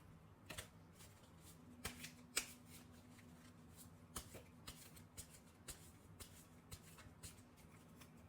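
Tarot cards being shuffled at a reading table, a quiet series of soft riffling snaps and flicks spaced irregularly over a steady low hum, with no voices.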